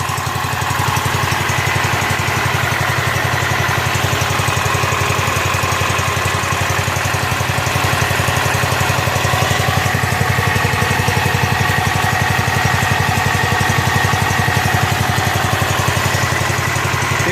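A rebuilt Kohler K241 single-cylinder engine from a John Deere 210 lawn tractor runs at a steady idle with an even, continuous putter and no pauses, close to the microphone.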